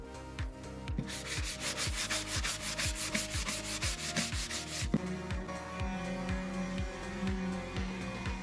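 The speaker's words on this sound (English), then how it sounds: "I'm going to give everything a quick sand with an 80 grit sandpaper" Wood being hand-sanded with 80 grit sandpaper, a steady scratchy rubbing in quick back-and-forth strokes, close and fairly loud throughout with no talking.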